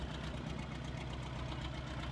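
A four-wheel drive tractor engine runs steadily at a low, even, rumbling idle, continuous and fairly faint, with no voices over it.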